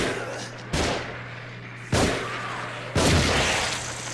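Three loud gunshots from the video game The Evil Within on PC, each a sharp crack with a short echoing decay, spaced about a second apart over a constant low drone.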